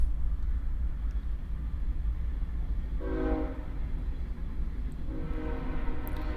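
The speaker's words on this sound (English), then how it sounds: "Got a train going by over here." A train rumbles past nearby with a low continuous roar, and two sustained horn blasts sound over the rolling noise, the first partway through and the second near the end.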